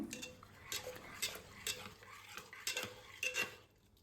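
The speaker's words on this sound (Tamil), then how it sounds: "நல்லா மிக்ஸ் பண்ணுங்கள் நல்லா கடைங்க" A spoon stirs carrot and millet payasam in a pot, giving quiet, repeated scraping and clinking strokes at a steady rhythm of roughly two per second, close by with no talk.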